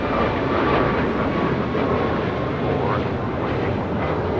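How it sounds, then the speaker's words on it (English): A brand-new Boeing 737 MAX 9 jet taking off at LAX gives a loud, steady, broadband engine roar that fills the whole stretch without letup. "It was a brand new 737 MAX 9 just delivered in June, taken off."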